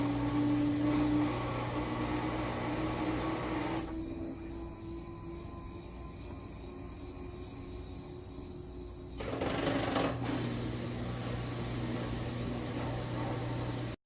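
A Whirlpool Cabrio washer filling the tub for its final rinse: a steady mechanical hum with a tonal whine, which drops into a quieter rushing of water for several seconds before the hum returns.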